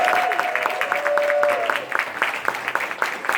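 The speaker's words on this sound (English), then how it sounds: "give it a round of applause for our quarter community contestants" Applause from a convention audience at a Quiplash game event, dense clapping spread evenly through the clip, with a brief whistle-like tone early on.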